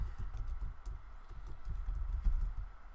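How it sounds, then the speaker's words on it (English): Typing on a computer keyboard, a quick run of soft, close key clicks in an irregular stream of taps with no voices over them. "So I'm going to type in the city that I live in"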